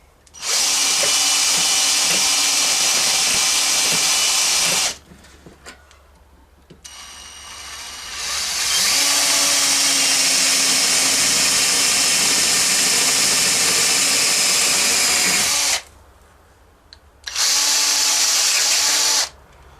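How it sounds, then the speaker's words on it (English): A power drill grinds loudly into metal in long bursts, stopping twice briefly with clicks and rattles between runs, close and harsh throughout. "So you want to just drill in this metal at the bottom"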